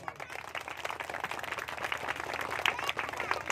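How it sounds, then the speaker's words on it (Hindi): A crowd at a community gathering breaks into loud applause, many hands clapping in dense bursts that build and swell, with some sharper individual claps standing out near the end. "जोरदार ताली हो।"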